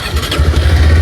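A motorcycle engine catches and starts nearby, giving a brief, loud, low rumbling burst that steadies into a running throb.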